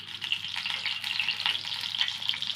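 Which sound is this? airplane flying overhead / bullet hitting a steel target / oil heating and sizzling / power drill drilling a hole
oil heating and sizzling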